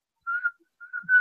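A person whistles two short tonal phrases, clear and fairly close, with a brief pause between them and no talking.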